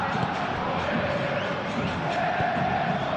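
Stadium crowd in the PES football video game, a dense steady roar of cheering and chanting throughout, loud and continuous with no clear pauses.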